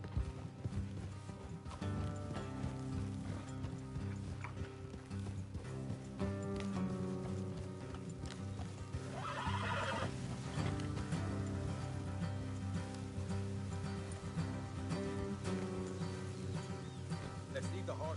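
Horse hooves clip-clop at a steady trotting rhythm in the Red Dead Redemption 2 video game, fairly quiet and continuous under a sustained musical score, with faint rain-like patter.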